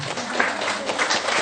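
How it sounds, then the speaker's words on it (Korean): Brief burst of audience applause at a Buddhist dharma talk in a temple hall, many hands clapping together in a steady, moderately loud patter with no speech over it. "박수 거기 쳐야지."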